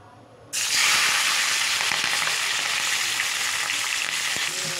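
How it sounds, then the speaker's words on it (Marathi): Salted green chilies drop into hot oil in a steel kadhai and burst into a loud, steady sizzle after a brief quiet moment, with crackling pops continuing throughout and no voices. "आता आपण हे तळून घेऊया."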